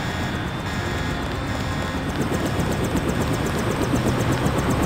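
Helicopter engine in Deus Ex drones steadily at close range, a constant whining, rumbling hum with a faint rapid rotor chop growing slightly louder toward the end.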